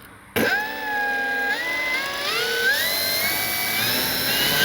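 Electric motor of an FMS Fox 3.3-metre RC power glider starts abruptly and whines steadily, the pitch stepping up as throttle rises past half, close and fairly loud, with outdoor wind noise.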